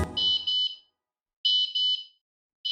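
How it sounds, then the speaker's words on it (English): A loud electronic tracker alarm beeps in pairs of high, piercing tones, repeating with short pauses between, with nothing else audible. "Or you can activate the alarm manually."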